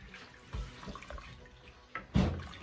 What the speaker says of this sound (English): Wooden spoon, old-fashioned southern shit. But stir your water.